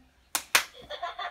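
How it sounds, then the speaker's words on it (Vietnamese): A child claps hands twice, two sharp close slaps about a fifth of a second apart, followed by faint high-pitched background sounds. "Vỗ tay mạnh lên."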